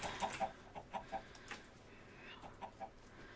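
Chickens in the Minecraft SkyFactory 3 modpack let out a quiet, irregular series of short clucks, faint and scattered over a soft noisy background.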